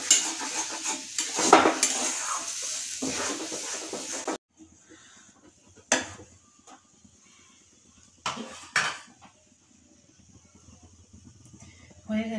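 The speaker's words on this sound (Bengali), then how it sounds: "পুর অলরেডি চলে গেছে কড়াইতে, এবার এটা ভালো করে বানানো হবে" A spoon stirs and scrapes a pea filling as it cooks in a wok: dense clattering and sizzling at first, then quiet stretches broken by a few sharp utensil knocks against the pan.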